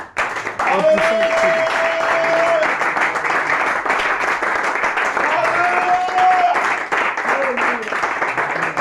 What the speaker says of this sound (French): je veux que tu acclames très fort le Seigneur